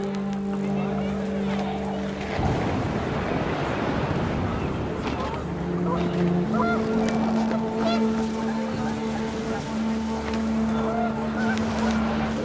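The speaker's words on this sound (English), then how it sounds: "The wind picked up and panicked geese appeared and quickly went." Panicked geese honk in the video game What Remains of Edith Finch, several calls rising over wind and a steady low drone, with water-like ambience beneath and no talk.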